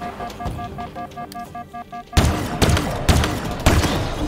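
Turret gunfire in Halo Infinite: a pulsing electronic tone gives way to a run of heavy, punchy shots, about five loud blasts spaced under a second apart.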